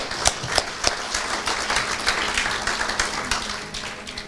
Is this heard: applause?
yes